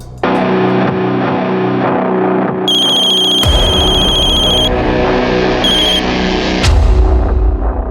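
A synthetic phone ringtone plays loudly, as a repeating electronic melody with pulsing tones, set against a dramatic musical backdrop with distorted effects and sudden shifts. No one speaks over it.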